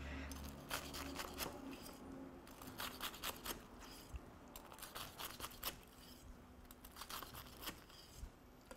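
A knife cuts through a crispy fried Japanese tonkatsu pork cutlet, giving repeated irregular crackling crunches, soft and close.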